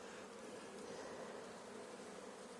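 Dense, steady buzzing of many honeybees from a hive split being shaken into a box, a continuous close swarm hum with no gaps and no voices.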